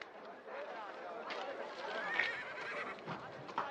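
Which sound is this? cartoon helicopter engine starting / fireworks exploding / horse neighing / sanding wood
horse neighing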